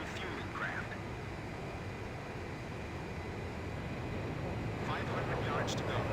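Fighter jet engines roar in a steady, dense wash while approaching a refueling craft in Ace Combat 5: The Unsung War, with faint radio-style voices breaking through near the end.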